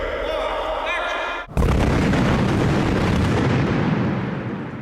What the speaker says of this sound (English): you'll see all the pyrotechnic charges going off